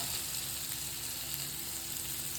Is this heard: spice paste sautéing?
yes